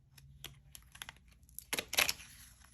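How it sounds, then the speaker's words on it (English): Soft clicking and light tapping, then a brief burst of riffling cards near the end, close and fairly quiet. "I'm going to shuffle what's left of my dwindling deck"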